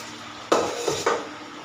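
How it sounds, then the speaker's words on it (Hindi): A cooking pot lifted off a stove for mutton chaanp pakora scrapes and clanks against the burner, one sharp knock followed by two lighter metallic taps. "अब हम इनको चूल्हे से उतार लें"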